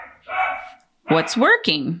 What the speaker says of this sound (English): Maybe you can hear my dog,